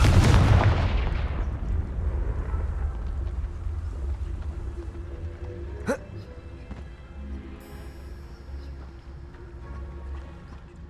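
A Confringo blasting spell in the video game Hogwarts Legacy explodes with a loud boom at the start that rumbles away, followed by a sharp crack midway and low background game sound.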